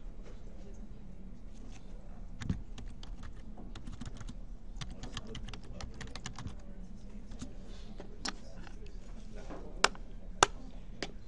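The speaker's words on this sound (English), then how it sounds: "So I'll type in agriculture here for an example." Steady typing on a computer keyboard, a dense run of close, light key clicks with a few sharper, louder taps near the end, heard alone without talk.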